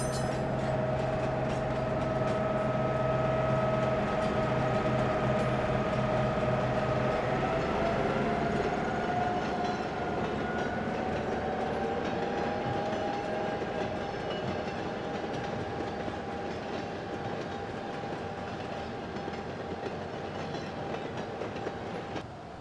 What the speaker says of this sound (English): The 2 E's pull out of the diesel house and head to the downtown station.